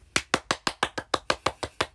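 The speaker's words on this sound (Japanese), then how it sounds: "あの結果発表を聞いてあの井田先生が1位だった時の拍手をしてます" A single person claps hands at a brisk, steady pace, about a dozen sharp, close claps in quick, even succession, practicing applause as if for a first-place result announcement.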